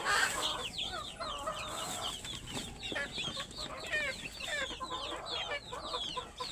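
Native hen clucking near her chicks, with rapid high peeping from the chicks, a busy steady chorus close by and moderately quiet.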